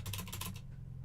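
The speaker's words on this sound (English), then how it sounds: "I'm sorry about all the random clicking noises" Rapid computer keyboard and mouse clicking during a video game, a close, dense burst of taps for most of the moment, then tapering off into quiet.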